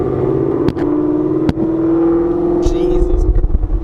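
A 2016 Mustang GT with headers and a Corsa Extreme catback exhaust driving at low speed, a loud, deep steady exhaust drone with a couple of sharp knocks, while people talk over it.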